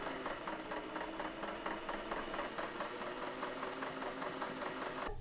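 A sewing machine stitches patchwork fabric for Japanese patchwork blocks in a quick, steady mechanical chatter, its needle clacking evenly throughout at moderate volume with no talk.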